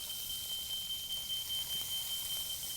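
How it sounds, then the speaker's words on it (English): An alarm clock ringing with a steady, continuous high electronic tone held throughout over a faint hiss of background noise. "that is the sound of the alarm"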